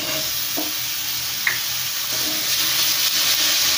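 Green peas roasting in spiced masala in a pan make a continuous hiss of sizzling, with a couple of faint clinks and stirring touches over the top, and no one speaking.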